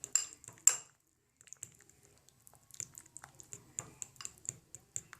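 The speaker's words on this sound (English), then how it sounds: "the more you stir it, the smoother it gets" A spoon scraping and clinking in a bowl of homemade deep conditioner, with two sharp knocks at first, then a quiet pause, then a steady run of soft rhythmic taps and scrapes close by.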